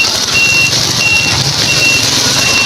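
Tall vehicles ford floodwater after heavy rain in Tabunok, Palompon, Leyte: a steady broadband rush of water and rain over a low engine rumble, with an intermittent high electronic beeping.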